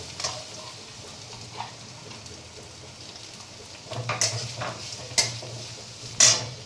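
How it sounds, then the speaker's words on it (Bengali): Onion frying in hot oil in a pan, a soft steady sizzle broken by several sharp metallic clinks and scrapes of a spoon stirring against the pan, close and with no voices. "এবার আমি এর মধ্যে আবার কিছুটা পেঁয়াজ ভাজবো।"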